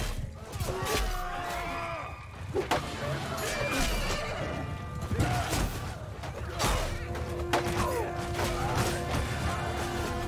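A horse neighs in the medieval battle game Mount & Blade II: Bannerlord, its whinnies rising above a steady din of combat clatter, hoof noise and distant shouting, with talk woven through.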